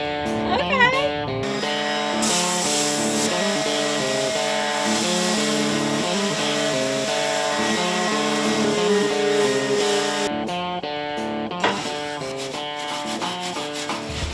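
An electric sander works over a vintage camper's metal frame, giving a steady abrasive hiss for several seconds beneath a louder layer of tonal music.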